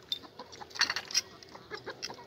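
A chicken clucks nearby in a series of short, irregular, fairly quiet clucks.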